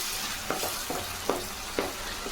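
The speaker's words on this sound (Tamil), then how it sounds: "தக்காளி நல்லா வதங்கணும்." Tomatoes sautéing in a pan for Kumbakonam tomato chutney, a steady sizzle with a few spaced spatula scrapes, close and moderately loud.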